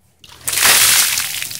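A bucket of ice water sloshes and splashes down over a person in one loud, continuous pour, starting abruptly and trailing into dripping spatter.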